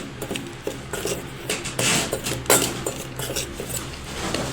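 A spoon scrapes and clinks against a bowl or jar while dry lemon shikanji spice masala is mixed, irregular close rubbing and tapping strokes with no voices.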